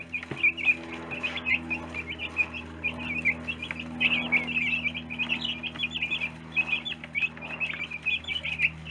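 Meat chicks chirp continuously in a brooder, a dense overlapping chorus of high peeping calls at close range, with a steady low hum beneath.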